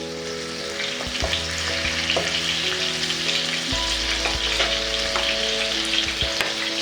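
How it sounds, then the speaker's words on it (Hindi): Mutton keema sizzles and fries steadily in a pan with yogurt stirred in, a loud, continuous crackle close up with occasional scraping taps of a spoon against the pan. "दही ऐड करने के बाद 4 से 5 मिनट तक इसको और कुक करते हैं, ताकि मटन हमारा अच्छे से गल जाए।"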